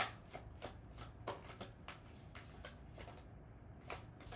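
Tarot cards being shuffled by hand, a rapid series of crisp riffling flutters and soft slaps in an uneven rhythm, close and fairly quiet, with no talking.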